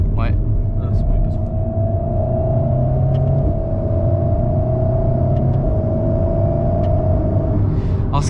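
An Alpine A110 with a turbocharged engine cruises at low revs, giving a steady, continuous engine drone and road rumble heard from inside the cabin throughout, with no talk over it.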